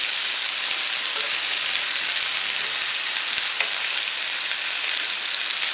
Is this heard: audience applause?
no